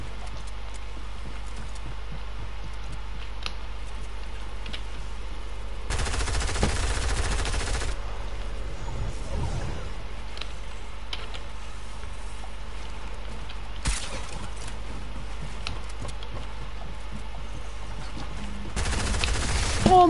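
SMG gunfire in a PUBG-style battle royale shooter, heard as a few short, loud bursts of automatic fire over a steady background hum, with long quieter stretches between the volleys.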